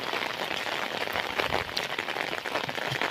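Heavy monsoon rain pours down in Konkan, a dense, steady roar of drops hitting surfaces close by with no voices.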